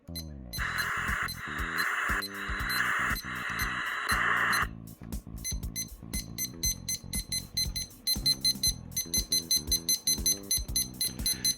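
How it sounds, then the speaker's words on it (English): Button beeps from an Oregon Scientific WR196T weather radio: first a loud sustained tone pattern, then a rapid run of short, sharp beeps in quick succession. "the button beeps on the Oregon Scientific WR196T"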